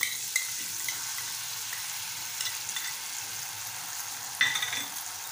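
Soya chunks with red chilli sauce sautéing in a pan, a steady broadband sizzle with occasional spatula scrapes and clinks, close and moderately loud, no talking, Malvani-style soyabean chilli.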